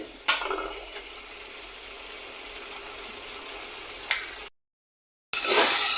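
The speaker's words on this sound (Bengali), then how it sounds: "দেখো, কষাতে কষাতে তেল বেশি উঠছে" Spice masala sautéing in oil for a bitter gourd and pangas fish curry, a steady soft sizzle with faint scraping, broken by a brief pause before the frying noise returns louder.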